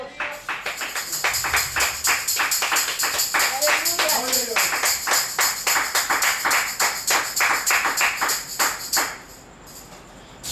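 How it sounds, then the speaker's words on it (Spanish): A church congregation claps together in a steady, rhythmic beat through most of the span, with a voice carrying over the claps before they stop near the end. "Denle un aplauso, Señor."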